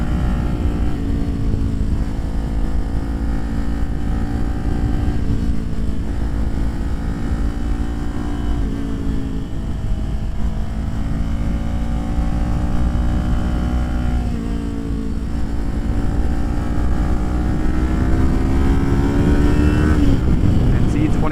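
A Kawasaki Ninja 400 motorcycle on mountain twisties at Palomar Mountain, its engine droning steadily under held throttle with a constant wind rush, pitch dipping and rising slightly, then climbing near the end.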